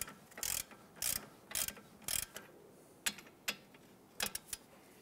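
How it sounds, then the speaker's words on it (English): Bolt being spun and worked out of a 2012-2017 Toyota Camry strut assembly, giving a series of sharp metallic clicks and ratcheting bursts in irregular clusters, close and fairly quiet with no talking. "With the nuts removed, I'm just gonna spin the bolt."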